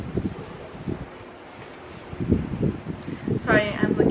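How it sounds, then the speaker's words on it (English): Gusty wind buffeting the microphone outdoors, low rumbling bursts rising and falling, with a brief bright whistle-like sound near the end. "It's pretty windy outside."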